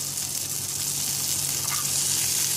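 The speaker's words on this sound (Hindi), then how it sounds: "और इनको फ्राई कर लीजिए" Boiled peas, carrots and capsicum fry in a tablespoon of oil in a pan, giving a steady, close sizzle throughout with no talking.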